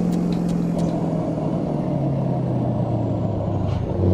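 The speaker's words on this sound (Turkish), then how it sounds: "bir de retarder sesini de deneyeceğiz tabii ki." A Scania R560 V8 truck's engine drones low and steady in Euro Truck Simulator 2, with a few short airy hisses near the start and one toward the end from retarder braking.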